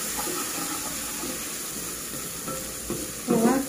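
Garlic, ginger and onions frying in a pan for a butternut soup give a steady, soft sizzle throughout, with a brief voice near the end.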